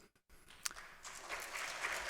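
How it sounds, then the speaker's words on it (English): Applause from a small audience at a general committee council meeting, starting after a brief pause and swelling into a steady patter of clapping that stays moderately quiet across the clip. "if we can hold the applause"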